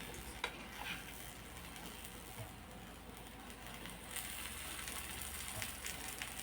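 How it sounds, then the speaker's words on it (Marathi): Dudhi (bottle gourd) thalipith shallow-fries in a little oil on a pan, flipped from side to side, with a steady, soft, close sizzle and one brief clatter near the start. "आता हे सुद्धा आपण दोन्ही साईडने थोडं थोडं तेल टाकून आलटीपलटी करून भाजून घेणार आहोत"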